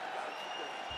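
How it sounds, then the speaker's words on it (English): A boxing crowd applauds after a round, a short burst of dense clapping and cheering heard at a distance with some voices mixed in. "the crowd voicing its appreciation after that round"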